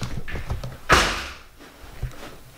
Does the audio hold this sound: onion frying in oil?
no